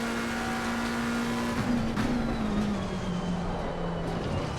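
A race car in the sim racing game Assetto Corsa Competizione drops revs under engine braking, a steady droning engine tone sliding gradually lower, moderately loud and alone without talk.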